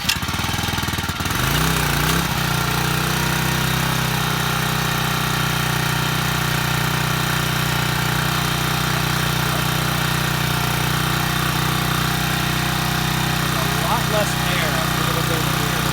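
A Champion 7 ton log splitter engine cranks and catches after about a second, then settles into a loud, steady, close running drone, with a person speaking briefly over it.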